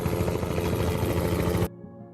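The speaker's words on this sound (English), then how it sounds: "It's a chopper! Run!" Helicopter in RimWorld, a loud, steady rotor chop with dense broadband thrum that cuts off abruptly near the end, leaving faint low hum.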